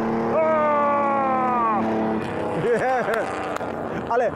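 A classic motorcycle accelerating hard along the sand in a beach drag race in Denmark, its engine note climbing steadily and loudly, then several quick passing sweeps as more machines roar by.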